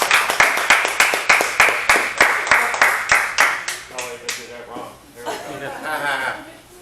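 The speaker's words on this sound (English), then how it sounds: "let's clap for 10." A small group at a pizza restaurant gathering claps together in a quick, even rhythm of sharp claps, then breaks into chuckles and laughter with voices talking as the clapping stops.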